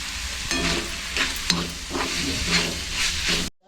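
Onions frying in a pan on low gas for a bitter gourd (karela) vegetable dish, giving a steady close sizzle and hiss with a few stirring scrapes throughout, alone without talk, ending abruptly.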